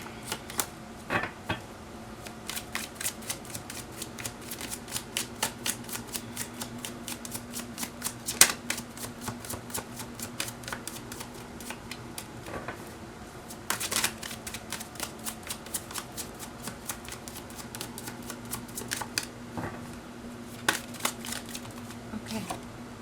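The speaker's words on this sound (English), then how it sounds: "we are gonna pull out different tarot cards from different tarot deck to delve deep into the situation" Tarot cards being shuffled and pulled from decks, a steady run of soft, rapid papery riffles and clicks close by, with occasional sharper snaps, continuing without pause and with no talking.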